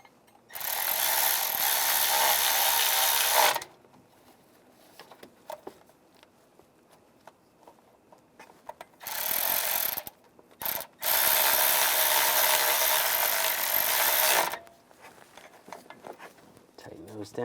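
A ratchet wrench clicks in rapid bursts while valve cover bolts are tightened down on a 2011-2018 Ram 1500 engine, with several seconds-long runs of ratcheting separated by quieter handling noises.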